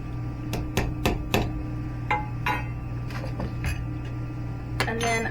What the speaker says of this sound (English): I'm gonna give it a good stir.